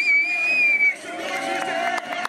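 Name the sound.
crowd cheering at motorcycle stunt show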